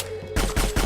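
Three heavy gunshot bursts from the Metal Gear Solid 4 video game, close and loud, arrive in quick succession after a brief quieter lead-in.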